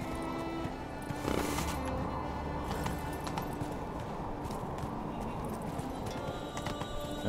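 Roach the horse gallops in The Witcher 3: Wild Hunt, a rapid rhythmic clip-clop of hooves running steadily over ground, fairly close, with faint game ambience behind.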